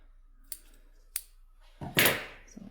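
Scissors cut quilt fabric during a quilting sewalong, giving two crisp separate snips and then a louder, longer slicing crunch near the end, close and alone.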